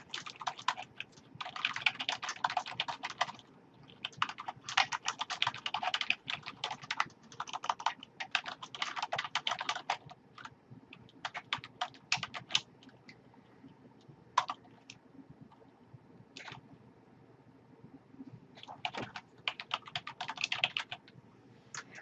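Computer keyboard typed on in bursts of rapid close clicks with short pauses between runs, while writing a note in finance ledger software; no talking.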